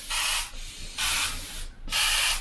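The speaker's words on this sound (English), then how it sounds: "If you were to just open the trigger right up like you were just spraying that water out, you will get this." An airbrush with the trigger pulled fully open blasts water-thin paint at 20 psi in three loud, close hissing bursts, each roughly half a second long, separated by short pauses.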